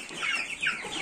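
Backyard roosters and hens cluck close by in a brief flurry of short, overlapping calls, with soft farmyard background and no voices.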